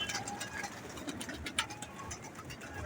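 Pigeons cooing and fluttering close by while being fed by a breeder in Lahore, a steady busy chorus of soft bird sounds over a noisy background.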